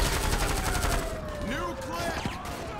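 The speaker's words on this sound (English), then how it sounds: "We are getting fired at." Gunfire in GTA V with the LSPDFR police mod during a city blizzard, a dense rattle of rapid shots at the start that fades into scattered distant pops under faint game sounds.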